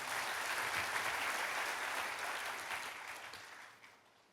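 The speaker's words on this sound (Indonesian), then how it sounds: "Mau kasih tepuk tangan buat Allah kita" Congregation applause in a church service, a steady wash of many hands clapping that fades out gradually over a few seconds.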